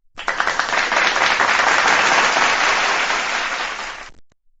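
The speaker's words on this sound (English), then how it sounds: "So let's give JJ another round of applause." Audience applause at a talk-show style event, starting abruptly, holding loud and dense for about four seconds, then tapering off quickly into silence.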